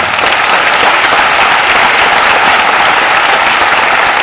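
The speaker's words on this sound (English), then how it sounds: "So one more round of applause." A dense, steady round of applause fills a hall at a senior honors night as an audience claps for award recipients, sustained and loud throughout with no pauses.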